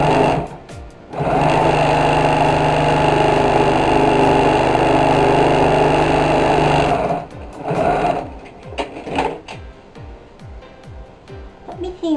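A sewing machine stitching fabric for a bag remade from a fukuro obi. The motor runs in a loud, steady whir for several seconds, then breaks into short, stop-start bursts and mechanical clicks.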